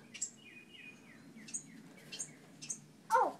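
Baby birds fledging from a nest in a pot give thin, high chirps and short descending tweets, several scattered calls close by in a quiet setting, ending with a louder burst.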